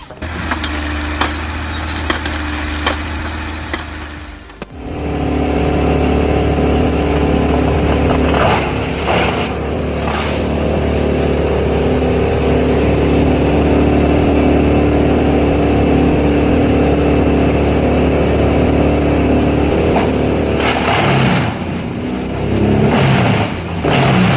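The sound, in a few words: tractor-mounted harvester head cutting logs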